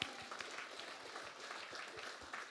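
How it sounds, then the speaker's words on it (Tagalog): A church congregation claps loudly together, a dense sustained wash of applause with scattered sharper claps across the whole stretch and no voices standing out. "Pumalakpak nga ng malakas."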